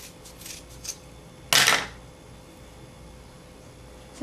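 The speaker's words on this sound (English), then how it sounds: "just cut the hair in half" Scissors snip through a bundle of synthetic hair in a single crisp, close cut, with a few faint rustles before it in an otherwise quiet room.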